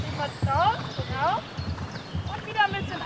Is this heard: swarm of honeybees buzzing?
no